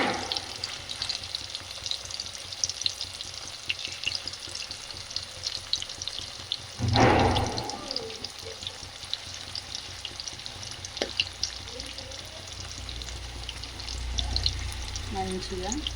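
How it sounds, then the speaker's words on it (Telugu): Chicken frying in a pan while being stirred, a steady sizzle with occasional clinks and scrapes of the spoon, with a brief louder burst of sizzling partway through. "మంచిగా కలుపుతూ ఫ్రై చేయాలండి"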